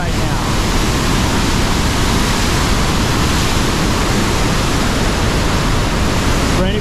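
Floodwater released from Lake Texoma roars as a loud, steady, dense rush of churning water with no breaks, close and overwhelming.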